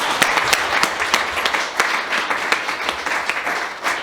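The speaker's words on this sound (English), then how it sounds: "I would like to ask everyone to give a round of applause" An audience at an annual association meeting claps for the board in a brief burst of applause. Many hands patter at once, fairly close and lively, with no talking over it.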